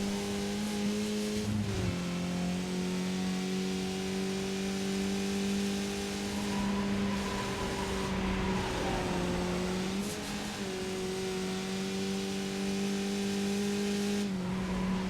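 A Skip Barber race car in the iRacing sim screams at full throttle around Lime Rock, its steady high engine note dipping briefly on gear changes or lifts near 2, 10 and 14 seconds, loud and continuous with no talk.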